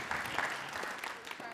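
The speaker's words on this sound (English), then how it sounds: "Round of applause for," Quiet applause from a workshop audience at an innovation summit, a soft, dense patter of clapping with voices murmuring in the room.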